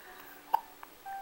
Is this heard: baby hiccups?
yes